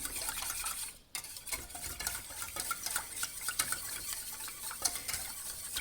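Yogurt soup mixture with added water is stirred in a pot, a spoon scraping and swishing steadily and close by, with one brief pause early on and no talking.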